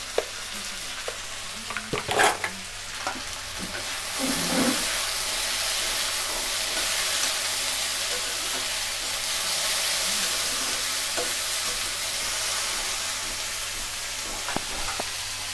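Spiced cauliflower filling for singara sizzles steadily in a pan, with a few stirring scrapes and clinks near the start, then a continuous loud frying hiss with no voices.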